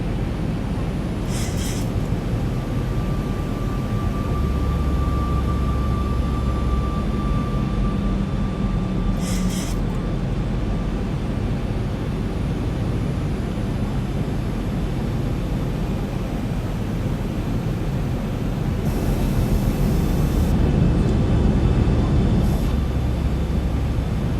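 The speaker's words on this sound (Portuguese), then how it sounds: "Deu uma acelerada na aeronave agora." An aircraft engine in the X-Plane flight simulator drones steadily during an approach to Madeira, swelling slightly louder as power increases, with a few faint tones above the constant roar.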